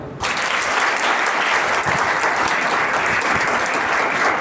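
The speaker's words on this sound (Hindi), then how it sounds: "गणेश काका के लिए तालियां।" An audience at an award ceremony breaks into applause, a dense, loud and steady burst of many hands clapping that starts abruptly and keeps going at full strength.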